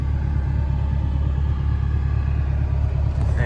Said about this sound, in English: The car drives spectacularly well